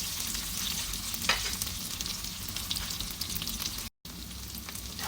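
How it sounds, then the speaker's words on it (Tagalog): Vegetables with malunggay sauté with spices in a hot pan, giving a loud, dense, continuous sizzle and crackle close up, with a brief cut near the end. "Kaya ginisa ko siya."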